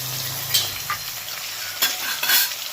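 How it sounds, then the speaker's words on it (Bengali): Oil crackles and sizzles steadily in a pan as large rohu fish pieces fry, with a few sharper spits and pops rising above the constant hiss. "দুটো দুটো করে ভাজবো মাছ ভাজা হতে হতে"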